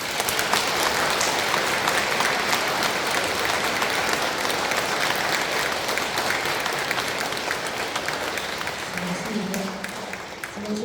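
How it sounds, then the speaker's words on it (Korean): Sustained applause from an audience at a Catholic church faith-sharing talk, steady dense clapping filling the whole stretch at even loudness, tapering slightly near the end. "감사의 박수 부탁합니다."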